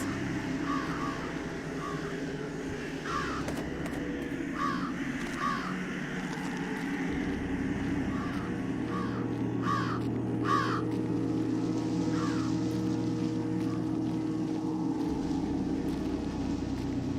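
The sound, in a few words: birds cawing in the video game Jenny LeClue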